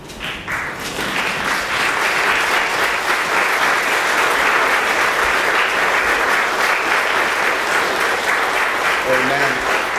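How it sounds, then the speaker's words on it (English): A funeral congregation at a Baptist church stands and claps, steady dense applause filling the room at full volume for several seconds, with a few voices rising near the end. "Can we just stand and give a clap offering for Aunt Delsey?"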